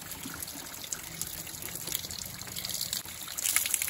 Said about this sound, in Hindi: ऊपर बर्फ पिघल के गिर रही है